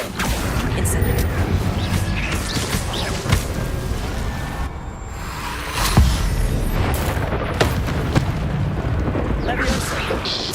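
Incendio fire spells cast in Hogwarts Legacy burst out as a string of booming, crackling blasts over a dense, continuous game soundscape, with a voice talking over the action.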